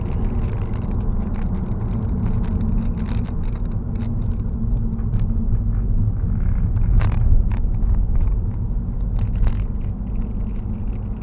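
Cabin sound of a Honda Jazz with CVT automatic accelerating in fourth gear: a steady, loud low engine and road drone that holds evenly throughout, with a few light rattles and clicks on top.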